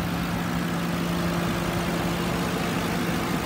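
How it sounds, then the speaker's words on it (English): 2010 Ford Crown Victoria Police Interceptor idling smoothly, a low, even engine hum that holds steady and fairly quiet throughout, with no speech. "It idles smooth, revs up nice."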